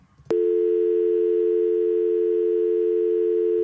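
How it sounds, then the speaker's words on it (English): A telephone dial tone cuts in after a brief moment of low background noise, then holds as one loud, unbroken steady hum to the end. "now you can play the dial tone"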